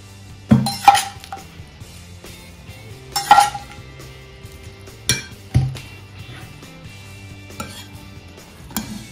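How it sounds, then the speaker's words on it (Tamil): A spoon stirs lemon juice into rice in a pan, with a few sharp metallic clinks and scrapes at irregular intervals between quieter stretches of soft mixing. "இதை நாங்கள் கலந்துட்டு இதை நாங்கள் அந்த ரைஸுக்கு மிக்ஸ் பண்ணுறோம்"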